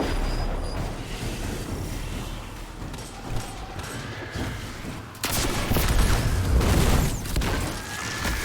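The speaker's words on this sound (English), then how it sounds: "This rocket launcher." Rocket launcher fire in Destiny 2 Shadowkeep, a dense barrage of explosive blasts and rumbling booms, building to a louder, heavier burst midway and staying loud to the end.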